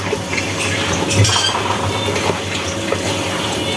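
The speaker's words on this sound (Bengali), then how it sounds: "এখন এটাকে একটু মাখাবো" Utensils scrape and clink against a bowl as food is mixed by hand with a little oil while cooking at home, steady close-up stirring with faint water and dish sounds, no talk.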